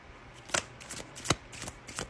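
Tarot cards being shuffled and drawn for a love reading, giving several crisp, brief riffling bursts spaced about a second apart, fairly close and quiet, with no speech.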